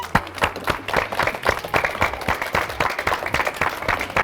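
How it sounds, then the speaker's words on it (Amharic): A children's audience at a school games event applauds the winners with steady, close, brisk clapping from many small hands, a dense rhythmic patter that carries on throughout. "በደንብ አጨብጭቡላቸው እስቲ።"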